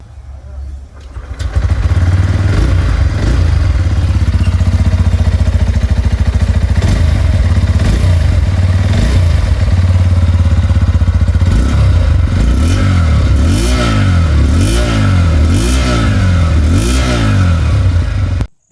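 Engine and exhaust of a 2026 Bajaj Pulsar 125 single-seat motorcycle, a steady close idle that swells into a series of sharp, rhythmic revs toward the end, loud and continuous with no talk over it.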